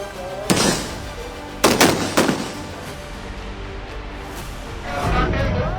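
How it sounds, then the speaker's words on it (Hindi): Several loud, sharp blasts of shells and rubber bullets being fired by security forces at a farmers' protest ring out in separate bursts and echo outdoors, followed by a swelling rumble of distant noise. "दनादन गोले चल रहे हैं, रबड़ की गोलियां चल रही हैं।"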